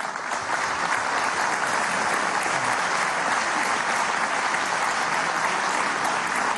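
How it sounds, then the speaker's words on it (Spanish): Sustained, loud applause from a large audience at a national youth assembly in Venezuela, steady dense clapping filling the whole stretch with no talk over it. "quiero pedirle un fuerte aplauso."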